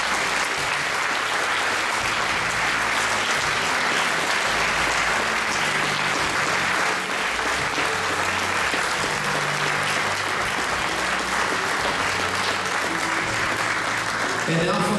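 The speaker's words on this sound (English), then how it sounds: "Let's give these families and these paintings another round of applause." An audience at a closing ceremony where oil paintings are presented to soldiers' families gives a long, steady round of applause, dense even clapping continuing at a constant level throughout.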